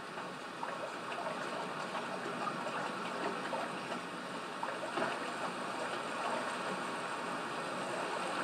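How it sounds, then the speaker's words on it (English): Noxious waterfall in the video game Conan Exiles, a steady, faint rushing wash of flowing water that continues evenly with no breaks and no voices. "Big old noxious waterfall."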